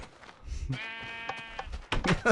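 Sheep bleating in the Minecraft video game, a clear sustained bleat in the middle with shorter noisy game sounds before and after, while a person talks in the background.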